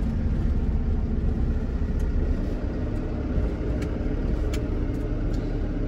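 Industrial waste truck hauling only gypsum board along the Sanyo Expressway near Hiroshima, its engine and road noise a steady, loud low rumble that holds evenly throughout with no talking.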